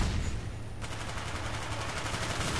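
Rapid automatic gunfire in the shooter Call of Duty Black Ops, a loud continuous burst of dense shots filling the whole moment, close and with no talking.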